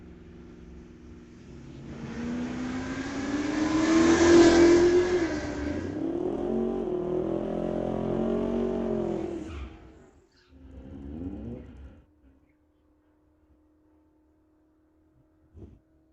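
A 1979 Pontiac Firebird and a Camaro launch side by side in a street-legal drag race, engines revving up loud and rising in pitch, then the roar fades away with a brief burst, leaving a faint hum and a closing click.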